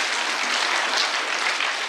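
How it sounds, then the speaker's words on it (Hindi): Audience at a Delhi mushaira and kavi sammelan breaks into sustained applause for a recited song, a dense, even wash of clapping heard close and loud throughout. "एक बार मजमूई तौर पे यार तालियां बजनी चाहिए"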